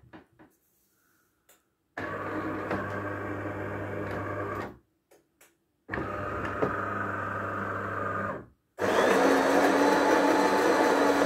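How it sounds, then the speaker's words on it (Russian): The built-in coffee grinder of a DeLonghi ESAM 3600.S automatic coffee machine whirs in loud, steady bursts of several seconds each, separated by short pauses with faint clicks, ending in a harsher, louder grinding run. "Кофемолка работает."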